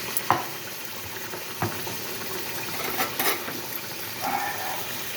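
Crab curry frying in a pan with onion, tomato and ginger-garlic paste: a steady close sizzle with a few sharp clatters of stirring spread through it, and no voices.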